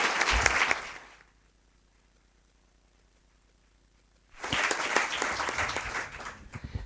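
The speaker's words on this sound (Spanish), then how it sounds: "les pido un aplauso tanto para ella como para el ponente" Audience at a Spanish lecture applauds a speaker and a presenter in two loud bursts of dense clapping, one briefly at the start and a longer one after about three seconds of quiet.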